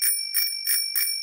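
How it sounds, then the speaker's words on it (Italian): Four quick, bright rings of a bicycle bell in a Peppa Pig cartoon, evenly spaced and clear against silence. "suono il campanello"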